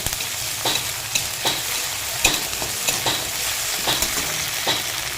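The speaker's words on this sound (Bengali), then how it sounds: "রসুন বাটা এক চামচ আদা বাটা এক চামচ দিয়ে ভালো করে মশলাটা সঙ্গে কষিয়ে নেব" Spices with garlic and ginger paste sautéed in a pan for an egg curry, a continuous sizzle broken by regular scraping stirs of a spatula, about six strokes, close and clear with no talking.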